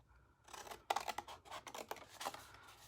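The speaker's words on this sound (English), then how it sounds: "Cut up the score lines to that second score line on both sides." Scissors snipping through cardstock along the score lines of a small coffee-scrub box, a run of crisp close cuts and rustling paper with no talk.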